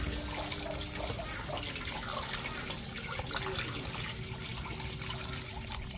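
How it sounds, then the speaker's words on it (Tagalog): Water pours steadily into a pot holding a pork leg seasoned with bay leaves and salt for crispy pata, cooked outdoors. The liquid splashes and gurgles continuously and fairly close, with no talking. "Lalagyan na po natin ng tubig."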